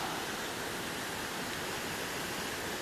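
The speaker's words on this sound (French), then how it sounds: "Une énorme cascade." A huge waterfall roars in a steady, dense, unbroken wash of noise that stays even and full throughout, with no voices over it.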